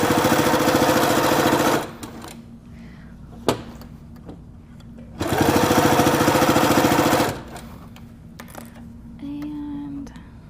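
A sewing machine stitches satin binding onto a baby blanket, running in two steady whirring bursts of about two seconds each with quiet pauses and small clicks between, ending in a brief softer hum.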